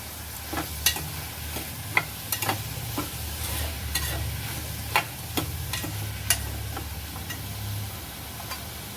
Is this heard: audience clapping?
no